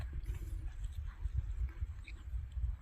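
Horse hooves thudding in a steady rhythmic trot under a girl riding in a training session, close and moderately loud, with low rumbling footfalls throughout.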